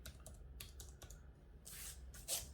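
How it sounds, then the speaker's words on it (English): Keystrokes on a Logitech MX Keys for Mac keyboard, a run of soft, close clicks in an uneven rhythm, with pauses and a quicker burst of presses near the end. "Yeah, typing experience, it seems very good so far."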